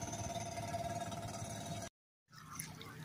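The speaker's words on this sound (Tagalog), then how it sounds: "Dalawang hand tractor." Two hand tractors working a flooded rice field in Barangay San Juan drone steadily and fairly loud, with watery splashing. The sound cuts to brief silence before the engine noise returns.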